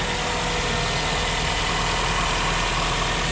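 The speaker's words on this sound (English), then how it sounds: "they started up the engine." A 1989 Toyota Corona 2.0i idles steadily, a smooth continuous engine hum with a low drone, close and even throughout with no talking.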